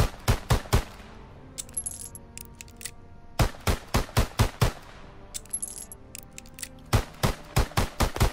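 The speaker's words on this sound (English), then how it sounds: "This is the pistol. I have a lot of fun using this one." Pistol gunfire in Call of Duty WWII: sharp, loud single shots fired in quick rhythmic bursts of four to six, separated by brief pauses with metallic reload clicks, no talking.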